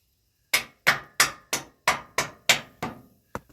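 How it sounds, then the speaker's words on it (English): A series of nine solid rubber hammer knocks tapping a tandem axle trailer suspension part into place, evenly spaced at first then slightly irregular, each with a short ringing decay, close and clear with no talking. "I have to tap it in with that rubber hammer."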